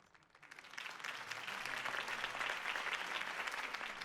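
A crowd bursts into applause after a political campaign speech in a Batman Telltale game scene, clapping swelling from quiet to a steady, dense roar that holds to the end.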